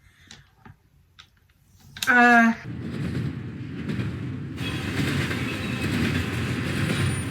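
A loud squealing screech, then a steady rumbling rattle of a passing train with faint clicks and hiss, continuing to the end.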